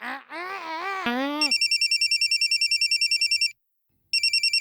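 A brief wailing voice gives way to a telephone ringtone, loud electronic trilling pulses in a fast even rhythm that stop for a moment and then start again.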